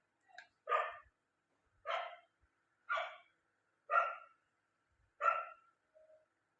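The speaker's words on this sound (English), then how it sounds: "The dog is barking." A dog barks five times at roughly one-second intervals, sharp single barks with silence between, heard alone and fairly close.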